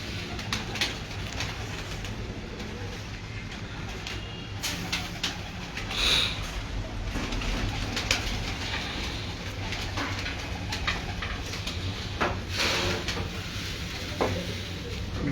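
Pet pigeons, males and females kept by a fancier, coo softly and repeatedly amid a busy background of fluttering and shuffling, with the calls recurring through a steady low rumble.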